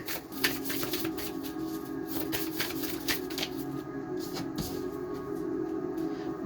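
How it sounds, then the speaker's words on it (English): Playing cards are laid down and shuffled in a dense, continuous flurry of close papery slaps and flicks over a steady hum. "Let's keep getting these cards down."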